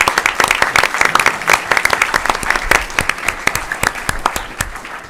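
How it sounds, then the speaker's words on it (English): Attendees at a school board meeting applaud the district's campuses, a close, lively burst of clapping with distinct individual claps, loud at first and thinning slightly over about five seconds. "we'd like to give them a big round of applause before we recognize them individually"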